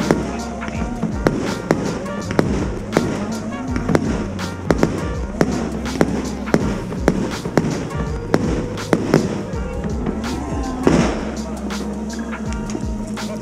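Fireworks burst repeatedly with sharp cracks and booming pops at irregular intervals, heard outdoors in heavy fog over a continuous rumble and people talking nearby.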